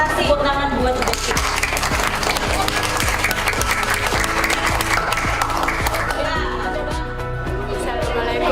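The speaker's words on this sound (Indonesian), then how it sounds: "Tepuk tangan buat Devita." Classroom applause for a student presenter in an Indonesian junior high lesson, dense clapping filling the whole stretch with children's chatter and voices mixed underneath.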